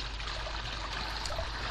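A strong current flows through a backyard koi swimming pond, making a continuous soft rushing and trickling wash of water that stays faint and even throughout.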